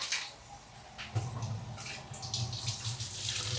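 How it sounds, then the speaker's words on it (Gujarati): Kokum being rinsed under a cold running kitchen tap: a steady close splash of water that grows fuller after the first second and continues without talk. "ઠંડા પાણીએ ધોઈ નાખવાનું."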